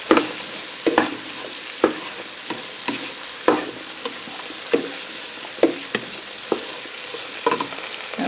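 Mushrooms and herbs sauté in a pan under a soft, constant sizzle, broken by repeated scraping and knocking strokes of a spoon stirring them, close up with no talk.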